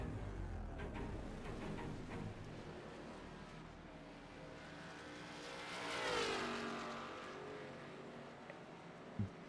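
Race car engines roar in the iRacing sim racing game at Kansas, a steady mechanical drone with one car swelling loudly as it sweeps past before fading.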